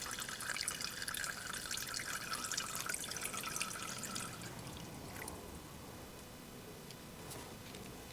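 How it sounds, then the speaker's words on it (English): Gasoline trickles and drips from a loosened drain screw on a small engine carburetor bowl, a thin steady liquid stream close by that fades to softer dripping partway through, with no talking. "My carburetor has screw here to drain gasoline from the bowl"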